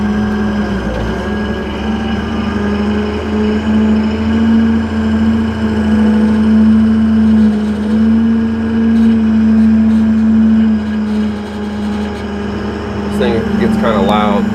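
A Beast 4680 wood grinder engine running at a wood-processing yard, a loud, steady droning roar with a strong hum that holds throughout, and a voice briefly heard near the end.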